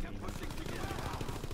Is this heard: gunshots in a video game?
yes